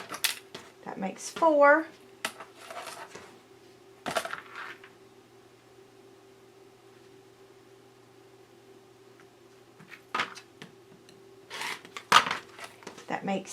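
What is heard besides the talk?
cutting quilt fabric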